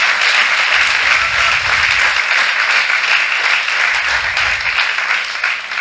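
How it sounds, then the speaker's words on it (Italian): Church congregation at the PNEUMA Conference breaks into sustained, loud applause, a dense wash of many hands clapping steadily for several seconds without a break. "facciamo un applauso a tutti quelli che ci stanno seguendo con i social."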